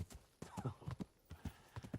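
Horse hooves clip-clop in a steady, uneven rhythm in the medieval game Kingdom Come, with a brief whinny-like snort partway through, close and moderately loud.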